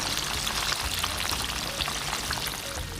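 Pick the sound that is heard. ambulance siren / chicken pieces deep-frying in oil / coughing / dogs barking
chicken pieces deep-frying in oil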